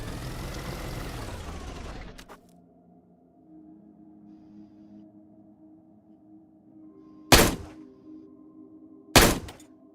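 Two loud, sharp gunshots in the Plains of Pain game, a couple of seconds apart, against a quiet low ambient hum after a brief burst of noise.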